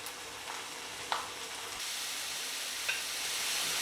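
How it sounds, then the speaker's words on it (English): Just under a kilogram of ground beef browns in a pan for bobotie, giving a steady, close sizzle with a couple of faint scrapes from stirring, and no talk over it. "And then we'll just brown that until it's nicely browned and all cooked through."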